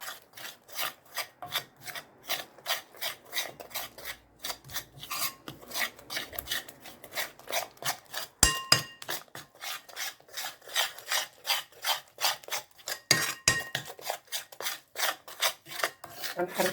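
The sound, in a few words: stirring flour mixed with eggs and spices in a bowl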